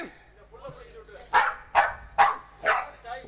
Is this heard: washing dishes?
no